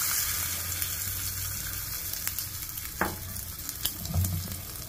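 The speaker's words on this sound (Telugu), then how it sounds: "చట్నీ అయితే మిక్సీ కచ్చపచ్చ పట్టుకున్నాము, ఇందులో కలిపేసుకున్నాం." Coarsely ground ridge gourd and tomato chutney being stirred into a hot, sizzling tempering, with a steady loud fry and scraping stir strokes, plus a few sharp clinks near the end.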